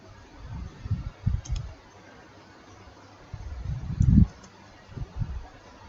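Keys clicking on a computer keyboard while web code is written, in short bursts of close taps separated by pauses, with light background hiss.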